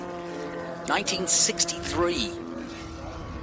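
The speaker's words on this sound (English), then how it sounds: "It sounds like it's got a big engine in it." Cooper Monaco T61 race car with a big engine passes during a Group 4 vintage race at a road course, its engine rising in a loud pass-by roar under a commentator's continuous talk.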